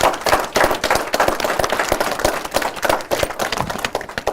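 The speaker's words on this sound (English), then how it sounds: "Let's give the teachers a big round of applause." An audience at an Albuquerque city news conference gives the teachers a round of applause: a loud, dense burst of many hands clapping, close by and continuing steadily.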